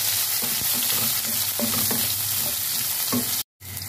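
Garlic and onion sauté with ginger in a hot pan, a loud steady sizzle with repeated scraping stirs of a spatula, cut by a brief moment of silence near the end.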